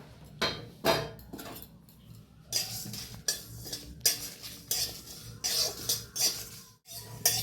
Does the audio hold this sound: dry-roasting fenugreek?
yes